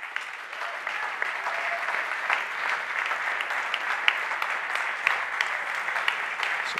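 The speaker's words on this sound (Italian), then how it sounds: "Signori, un altro applauso." Sustained audience applause at an Italian cycling event honouring a former Giro d'Italia winner, a dense, even crowd clapping throughout with scattered louder claps.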